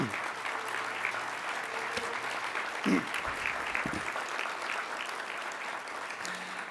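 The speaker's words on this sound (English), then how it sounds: "a round of applause for you" Applause from a life science awards audience honoring board members, a steady mid-level clatter of many hands that carries on throughout, with a couple of brief voices and bumps underneath.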